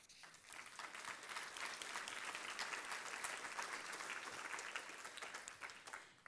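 Audience applause at a university speaker series event on a regional housing crisis: steady, even clapping from a sizable crowd, sustained for several seconds and fading at the end, quiet and somewhat distant.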